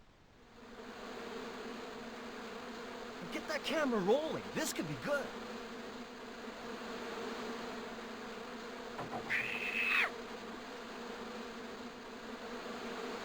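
Hornets swarm angrily in a bush in the Broken Sword adventure game, a steady droning buzz running throughout, with a voice speaking excitedly and a brief whistling sweep near the end.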